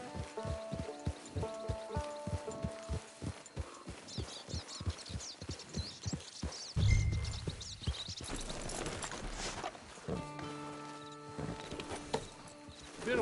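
Horse hooves in the video game Red Dead Online clop in a steady, evenly spaced trot for the first seven seconds, then give way to scattered noises, chirps and a soft voice over a calmer stretch.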